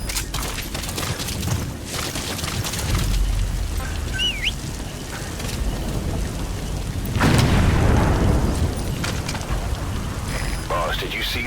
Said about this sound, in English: Boss, did you see that explosion?